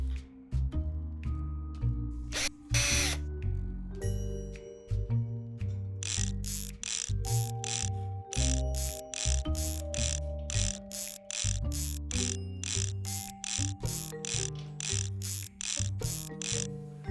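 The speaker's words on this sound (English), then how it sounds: "then I come back and tighten it all down with a wrench" A wrench ratchets down the bolts and nuts while a wood burning stove is assembled. Crisp, close clicking comes in quick repeated bursts, with short pauses between runs.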